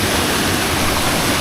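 Tugonan Falls pours in a dense, steady roar of rushing water, loud and close with no break, alone without any voices.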